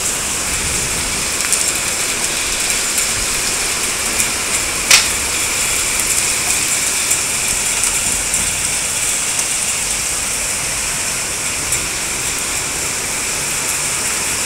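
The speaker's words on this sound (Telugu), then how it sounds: "చూసారా ఇంకెక్కువ పడుతుంది వర్షం." Heavy rain in Hyderabad pours down steadily as a dense, constant hiss, loud and unbroken, with no talking.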